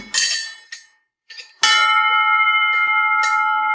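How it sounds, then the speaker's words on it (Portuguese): Metal cow bells of various sizes are struck one after another, a few sharp clanks followed by a loud bright strike whose ringing tone sustains and slowly fades, with no voices. "Todos os sinos são destinados a serem colocados em vacas"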